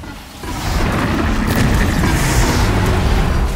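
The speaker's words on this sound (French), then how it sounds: "Oh, l'explosion." A loud, rumbling explosion in Horizon Zero Dawn swells after a brief lull and keeps roaring heavily, a dense sustained boom with no speech.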